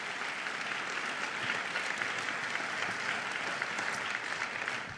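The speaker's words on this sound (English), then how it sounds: "which that does deserve a round of applause" Audience at a State of New York City address giving a sustained round of applause, many hands clapping evenly and steadily throughout, heard from a distance in a large hall.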